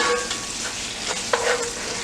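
A wooden spoon scrapes and stirs inside a pot of sautéing onion and tomato paste for a Jollof rice dish, with soft frying sizzle and a few brief scraping strokes close by.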